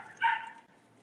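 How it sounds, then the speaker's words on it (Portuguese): A dog barks once, a single short muffled bark from outdoors, somewhat distant and fairly faint, then quiet follows. "Tem um cachorro aí, né, doutor?"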